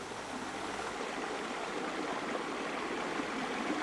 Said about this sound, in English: Behind the boat, a cascade of pure fresh water.